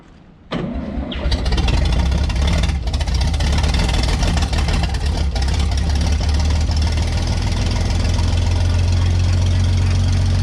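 Engine of a vintage Scoopmobile loader catching after a short crank, then roaring loudly and continuously with a rough, knocking idle, close by and alone throughout.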